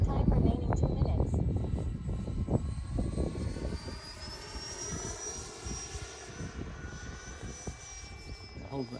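An FMS Futura v3 RC sport jet with an electric ducted fan flies overhead, its steady whine shifting in pitch as it passes through turns, while someone talks over it throughout.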